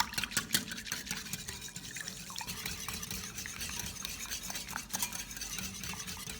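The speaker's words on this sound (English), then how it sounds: "Stir for about 1 minute until the mixture is completely blended with no separation." Egg yolks and milk being stirred in a bowl, a steady wet swishing and light scraping of a utensil running continuously for several seconds, close and clear with no talk.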